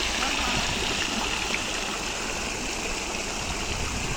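Water flowing along a stream, a steady broadband rush and gurgle heard close and continuous with no pauses.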